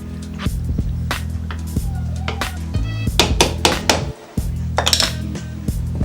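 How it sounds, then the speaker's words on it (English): Metal spoon stirring soup with fried salami in a pot, giving repeated sharp clinks and scrapes against the pot over a steady low hum, fairly close and loud. "Take your spoon, give it a stir."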